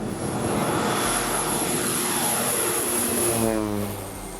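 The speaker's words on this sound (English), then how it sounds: "checks to make sure everything is okay with the plane, and climbs in for a ride" A small propeller airplane in flight over an island region, its engine droning loud and steady throughout, with a shifting propeller hum toward the end.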